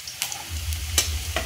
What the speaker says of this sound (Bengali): পেঁয়াজ আর শুকনো লঙ্কা আমি একসাথে লাল করে ভেজে নেব